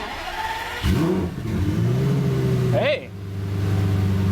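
A cheap Lamborghini being tuned by its owner cranks and fires up, the engine catching with a rising rev before settling into a steady low idle, loud and close, with a brief spoken word over it.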